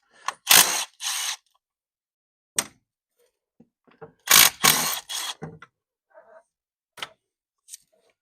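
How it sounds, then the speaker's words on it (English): A ratchet wrench loosens bolts on a 6.0 Powerstroke engine during an injector repair, giving several close, crisp bursts of rapid clicking separated by short pauses and a few lighter taps. "I'm going to have to use a sideways ratchet on"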